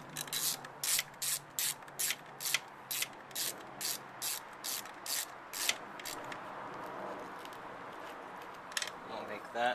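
Rapid bursts of a ratchet clicking as a 10mm nut on an alternator wiring harness is tightened on a 2005 Ford Focus, a dozen quick crisp ratcheting strokes in steady rhythm, close and clear, trailing into quieter workshop handling.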